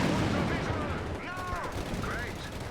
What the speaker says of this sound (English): The 80mm of sloped frontal armor on the Panther meant it could definitely deflect a lot of shots there.